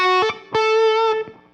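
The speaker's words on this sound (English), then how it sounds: "the reverb will sound like I'm in a room" A Kurzweil rack synthesizer plays bright, sustained tones with a short small-room reverb: two or three struck notes ring out briefly, each tail dying within well under a second, with no talking.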